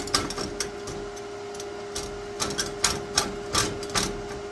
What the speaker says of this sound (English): so tack welding that was more than doable